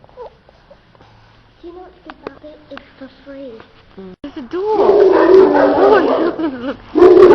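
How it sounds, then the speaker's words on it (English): A dog barks at an animal park in New Zealand, heard amid loud, close chatter and crowd noise that swells in the second half, with a voice talking earlier. "There's a dog."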